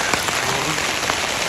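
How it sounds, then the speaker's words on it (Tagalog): Steady rain falls at a campsite in Canada, a dense, even patter filling the whole span with a few louder drops standing out, close and continuous, with no one talking over it. "Nabot na kami ng tag-ulan dito."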